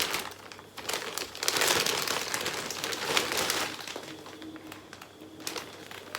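Plastic bag crinkling and rustling close up, with irregular crackling bursts that swell in the middle and ease off toward the end, heard alone without talk.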